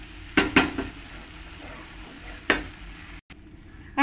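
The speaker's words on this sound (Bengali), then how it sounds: "ভালো করে এরকম করে নাড়িয়ে নাড়িয়ে কষিয়ে নিতে হবে" Poppy seed paste is stirred and fried in a pan for a ridge gourd dish, with a few scraping utensil strokes against the pan over a faint steady sizzle, then a brief pause.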